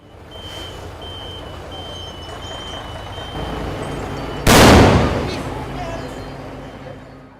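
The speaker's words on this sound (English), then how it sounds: "that was actually an explosion that we heard" A sudden heavy explosion during a massive bamboo warehouse fire, one sharp, loud blast over a steady rumble of engines and a reversing truck's beeping, then a roaring tail that slowly fades back into the background noise.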